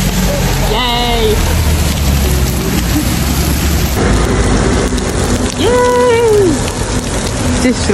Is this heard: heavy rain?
yes